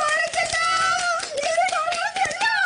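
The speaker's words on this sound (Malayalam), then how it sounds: "കൈയടിച്ചോളൂ" An audience clapping during a university-themed task on a reality show: a run of sharp, quick claps under a prominent, sustained voice that carries over the whole stretch.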